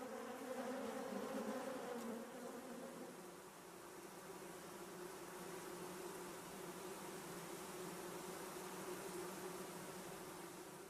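Steady, dense buzzing of a honeybee colony, continuous and fairly close, holding an even drone throughout with no voices.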